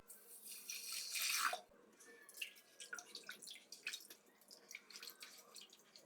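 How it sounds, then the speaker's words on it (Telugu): Foxtail millet being washed in water: a brief rush of pouring water, then a string of wet swishes, drips and grain-rubbing sounds close up and fairly quiet, with no speech. "ముందుగా కొర్రలు శుభ్రంగా 3 సార్లు కడుక్కోవాలి"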